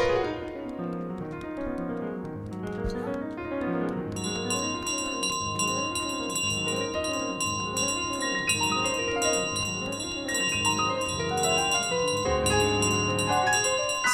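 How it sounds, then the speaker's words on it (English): A bell rings amid bright, chiming game music in Untitled Goose Game, sustained tones layering over a steady melodic backing. "No, it's my bell."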